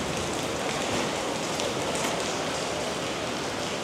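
Heavy rain pours steadily onto a Tokyo street, a dense continuous hiss of drops hitting pavement and umbrellas, close and loud with no voices.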